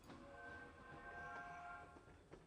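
In the Lego Harry Potter video game, a train runs with a steady rumble and a sustained horn-like whistle tone through most of it, heard faintly with no speech.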